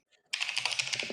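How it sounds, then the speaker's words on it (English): Someone types on a computer keyboard. After a brief quiet start, a rapid, even run of close, crisp keystrokes clatters on without talking. "I'm not good at typing."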